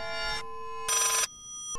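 An electronic phone ringtone inside the horror video game Layers of Fear rings in two bursts with a pause between them, then briefly starts a third time, sounding clear and fairly close.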